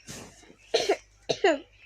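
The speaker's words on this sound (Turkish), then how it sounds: "Niye öksürüyorsun lan?" A person coughs several times at close range in short, harsh bursts, two pairs of hacking coughs following an opening one, while children play Minecraft indoors.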